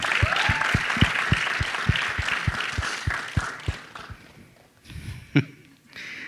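Audience applause for Siddharth at a film event, a crowd clapping fairly loudly with a few sharp rhythmic claps standing out, fading after about four seconds into quieter room noise.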